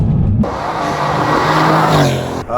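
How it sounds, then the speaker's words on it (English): A turbocharged Mercedes-AMG C63 S coupe engine with performance exhaust revs hard and roars past up close, a loud, sustained growl with a rising pitch before cutting off. "AMG are making turbocharged engines, and they've got the sound right."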